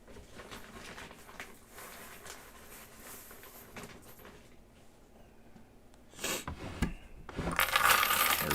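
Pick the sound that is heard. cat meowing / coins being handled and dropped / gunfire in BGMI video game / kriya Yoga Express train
coins being handled and dropped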